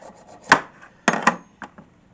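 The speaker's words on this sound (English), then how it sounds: "let's get this file, get that all filed down and cleaned" A hand file scrapes and knocks on front brake parts of a 2015 Kia Sorento, a few short, sharp rasping strokes up close with quiet gaps between them.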